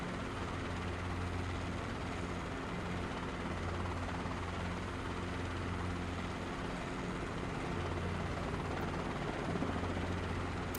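A small, slow helicopter in a flight simulator hums with a steady low rotor and engine drone, even and moderately quiet throughout.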